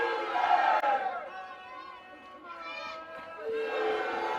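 Oklahoma Sooners softball fans fill a stadium in Puerto Vallarta, Mexico, with a loud crowd roar of cheering and chanting voices that rises and falls steadily.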